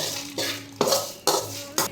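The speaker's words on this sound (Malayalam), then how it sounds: "ഇനി മിക്സ് ചെയ്യാം കേട്ടോ ഇളക്കി മിക്സ് ചെയ്തിട്ട്" Unniyappam batter is mixed with coconut bits and sesame roasted in ghee, producing four evenly spaced clinking scrapes of a utensil against a bowl, close and fairly loud, with no talking.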